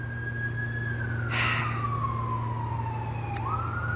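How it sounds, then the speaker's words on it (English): A single emergency vehicle siren glides slowly down in pitch, then turns back upward at the end, heard at moderate distance over a steady low hum. "Hear that siren?"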